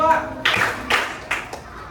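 Sharp group claps from a school class land in a loose rhythm, several bursts over a couple of seconds, with children's voices mixed underneath.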